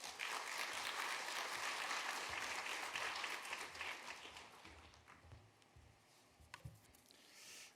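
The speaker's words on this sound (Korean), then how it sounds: "한번 크게 박수함으로 환영하겠습니다" A church congregation applauds loudly to welcome the pastor at a Sunday service, with dense clapping that holds for a few seconds before fading into a few scattered claps and room noise.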